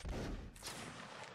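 A volley of musket fire in a line battle video game: one sustained rolling crackle of many shots blending together, distant and quiet, with no talk.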